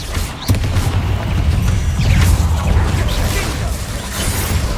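Bombarda and Confringo spell explosions in Hogwarts Legacy go off as repeated booms and crashes amid busy battle noise, with shouted voices mixed in.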